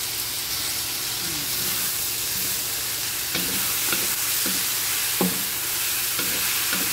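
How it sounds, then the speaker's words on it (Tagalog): Shrimp paste sautéed with garlic, onion and ginger for pinakbet, producing a loud continuous sizzle and hiss with occasional scraping stir strokes of a spatula against the pan. "Igisa po natin mabuti para hindi siya malansa yung alamang."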